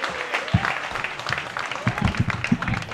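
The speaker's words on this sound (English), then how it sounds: "Would you mind to clap for them?" Applause from an audience at a Congolese community International Women's Day celebration, a few scattered claps with some voices mixed in, fairly close and moderate in level over three seconds.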